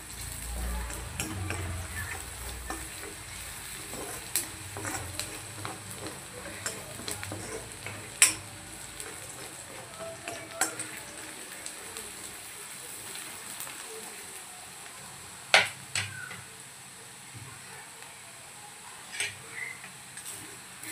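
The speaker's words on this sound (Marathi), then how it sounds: "छानपैकी आपल्याला कांदा होऊ द्यायचा आहे आधी." Onion frying in a pan for masala bhindi, a faint low sizzle with occasional sharp taps and scrapes of stirring, close but quiet, with a voice talking at times.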